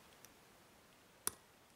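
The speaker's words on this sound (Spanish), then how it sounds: "un clic, ese es muy corto" A single sharp pin click from a 1973 vintage Corbin padlock being picked, one crisp tick standing out against a quiet background, with a fainter click earlier.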